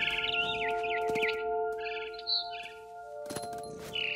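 Barn swallow chirping outside a window in the video game What Remains of Edith Finch, bursts of quick twittering notes over a steady tonal music drone.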